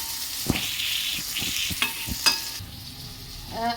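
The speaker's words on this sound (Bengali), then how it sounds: "আর একটু ধনে পাতা দেবো দিয়ে ডালটাকে সাঁতলে নেব" Dal frying in a pan with dried chilli, cumin, onion, garlic and tomato: a steady close sizzle broken by several sharp scraping stirs of a utensil, with no voices.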